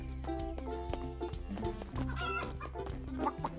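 Chickens cluck in the video game World's Worst Handyman over a steady backdrop of electronic game music, with bursts of busy, layered sound; the clucks come in short, repeated clusters.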